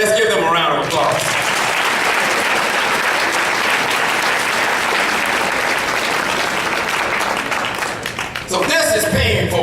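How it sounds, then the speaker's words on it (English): A keynote audience breaks into loud, sustained applause lasting about eight seconds, with voices heard just before and after. "let's give them a round of applause"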